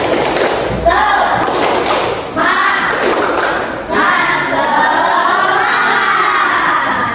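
Schoolchildren in a classroom clap out a rhythmic group cheer, bursts of loud claps and shouting voices in repeated phrases with brief pauses between them.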